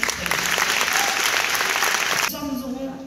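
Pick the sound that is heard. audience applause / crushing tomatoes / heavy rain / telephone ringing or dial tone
audience applause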